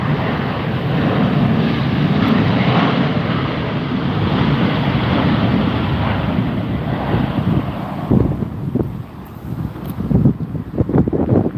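Southwest Airlines airliner arriving at Las Vegas airport, a steady broad jet roar with strong wind buffeting on the microphone. The roar fades toward the end as gusts and thumps take over.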